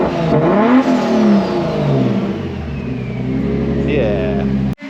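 Lexus IS200 with a Profusion exhaust revved to about 4,000 RPM, heard loud and close from outside the car, with a rising then falling engine tone that holds steady before cutting off sharply.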